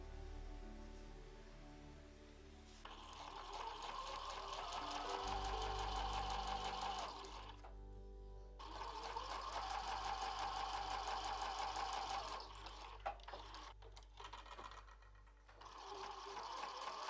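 Domestic sewing machine stitching patchwork fabric strips one row at a time for a shoulder bag, running in steady whirring bursts with short pauses between, close and clear.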